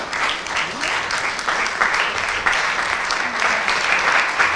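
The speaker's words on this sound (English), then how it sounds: "let's clap our hands for Jesus" A church congregation claps together in a steady, dense wash of applause that runs unbroken from start to finish, with faint voices underneath.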